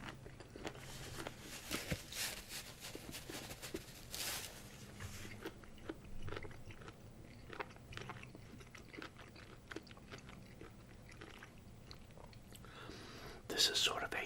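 Someone eats Filipino long beans cooked in a shrimp or fish-based stock, with close, soft crunching and chewing bites spread through the stretch, quiet whispering over them, and a louder rustle near the end.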